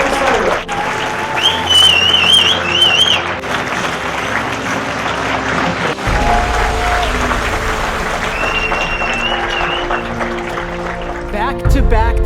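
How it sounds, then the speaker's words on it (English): Audience at a motivational keynote event applauds in welcome as speaker Croix Sather comes up, sustained energetic clapping with upbeat music playing underneath and brief cheering whistles. "Round of applause and a huge, heartfelt, warm welcome, Croix Sather"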